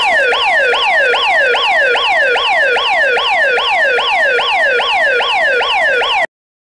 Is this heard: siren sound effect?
yes